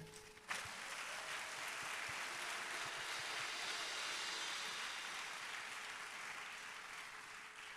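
A congregation at a national singles' church retreat bursts into dense, sustained applause that starts abruptly and holds as a steady wash of clapping, easing slightly toward the end.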